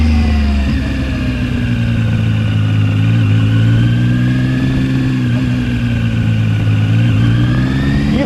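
ZONTES 703F motorcycle pulling away in first gear, its engine loud and close with a steady droning tone that climbs gradually in pitch, dips briefly and rises again, heard alone.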